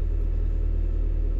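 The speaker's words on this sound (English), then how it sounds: "Sorry if my car is loud." A car engine heard from inside the cabin in cold weather, giving a loud, steady low rumble with a fast regular throb that runs through the whole moment without a break.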